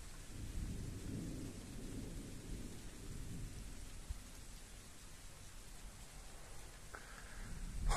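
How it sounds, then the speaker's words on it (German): A night thunderstorm over Ingolstadt: a long, low roll of thunder rumbles beneath steady rain, fading slightly before the downpour swells again near the end, with no voices. "Zwei Gewitter an einem Tag."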